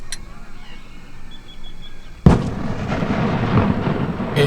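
Large fireworks going off on a Saturday morning in Mexico, with a sudden loud blast about halfway through followed by a sustained roar and crackle of bursts.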